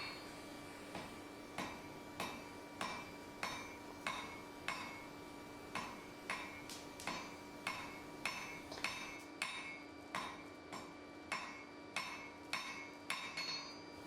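Hammer blows on hot steel at a forge, setting down the nib of scarf-welded Viking tongs: about twenty sharp, ringing strikes in a steady, evenly spaced rhythm, close and alone with no talk.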